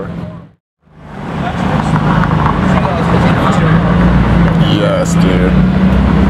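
A Porsche GT variant with Weissach package and straight pipe exhaust passing close by, a loud roaring exhaust note that swells after a brief gap and holds, with people talking nearby.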